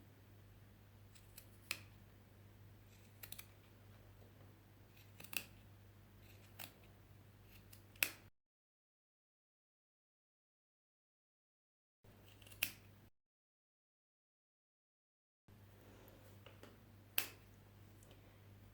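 Scissors snip macrame fringe into a V shape in sharp, isolated clicks a second or two apart, close and crisp over a faint low hum, with silent gaps between bursts.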